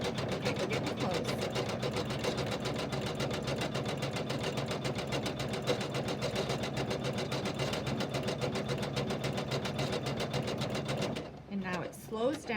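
A Janome embroidery sewing machine stitches steadily with a rapid, even mechanical chatter for about eleven seconds, then slows, cuts the thread and jumps, ending in a few softer irregular clicks.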